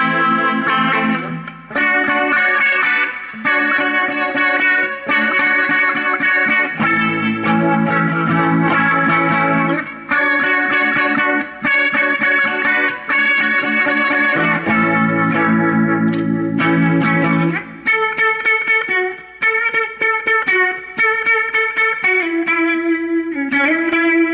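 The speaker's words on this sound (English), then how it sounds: "I just love this little amp, and I love this Epiphone guitar." Epiphone ES 335 Pro electric guitar played through an Orange Crush 35RT amp with reverb, loud sustained chords and riffs with an effects-laden, slightly driven tone, ringing continuously before shifting to single-note lines near the end.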